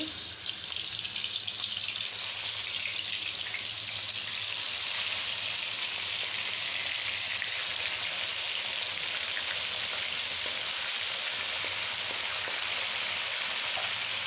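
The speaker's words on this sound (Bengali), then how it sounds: "এই পর্যায়ে আমার তেলটা গরম হয়ে এসছে। এখন আমি একটা একটু করে মাছ ছেড়ে দিচ্ছি।" Tengra fish, coated in turmeric, chili powder and salt, dropped into hot oil, giving a steady loud sizzle that hisses evenly and continuously without a break.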